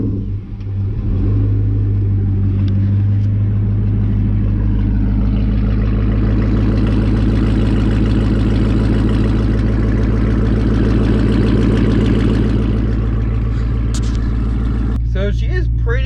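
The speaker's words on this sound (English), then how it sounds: "let's go ahead and hop in the Mustang and let's hear a cold start." Cold start of a fully straight-piped Ford Mustang: the engine catches with a loud burst, then settles into a deep, heavy, rumbling idle that swells and stays loud and close for about fifteen seconds before a few clicks at the end.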